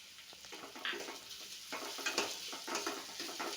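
Onion, green chilli and garlic paste sautéing in a pan, with a steady close sizzle and occasional stirring scrapes, no voices.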